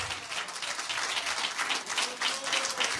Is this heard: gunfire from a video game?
no